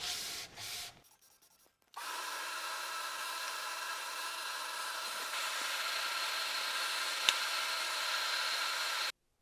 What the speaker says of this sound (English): moving on to hand sanding.